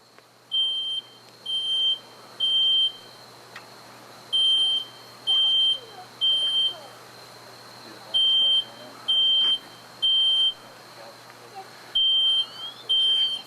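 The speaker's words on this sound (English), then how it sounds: "hear the smoke alarm initiating now, within seconds" A smoke alarm goes off during a couch fire demonstration, sounding shrill, piercing beeps in repeated groups of three with short pauses between, moderately loud over a quiet background.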